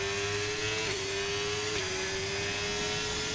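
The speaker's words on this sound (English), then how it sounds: "Oh, the Ferrari engine just sounds so much better." A Ferrari-powered F1 car in the F1 25 racing game, its engine holding a loud high-pitched whine with small pitch dips as it shifts, continuous and close for over three seconds, with no talking.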